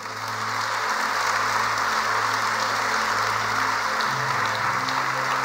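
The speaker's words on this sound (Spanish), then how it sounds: "Dale un aplauso a Dios." Church congregation applauding, a steady dense wash of clapping that holds for several seconds with low organ or keyboard tones sustained underneath.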